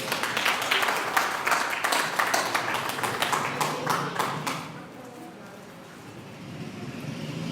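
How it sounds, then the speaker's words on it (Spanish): Church congregation breaks into applause during a Spanish-language sermon, a rhythmic, fairly loud round of many hands clapping that fades out after about five seconds into quieter room sound. "Denle un aplauso al Señor, por favor."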